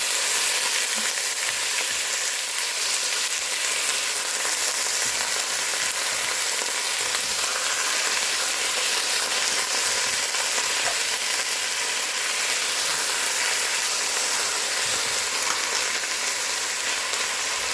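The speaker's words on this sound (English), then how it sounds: "Alright, so we're going to brown our meat." Beef browning in a Dutch oven, a steady, dense sizzle and crackle like rain on a surface, continuous and close with small pops and occasional stirring, no voices.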